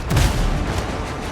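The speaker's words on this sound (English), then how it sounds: "Boom! Nice. For level 1 cannons, it's not a bad shot." A cannon shot strikes a ship in the pirate game Windrose, a single heavy, close boom with a deep low thud that rolls into a dense rumbling decay.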